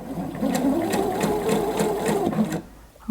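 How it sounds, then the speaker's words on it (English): A sewing machine stitches over fabric on a dress being made, a steady close whirring run of needle strokes lasting nearly three seconds before stopping, with no talking. "I'm going to sew over the first part of the"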